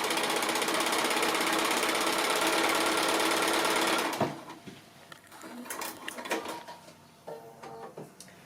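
A sewing machine stitches a quilt block in one steady, buzzing run of about four seconds, then stops and gives way to soft rustling and handling sounds.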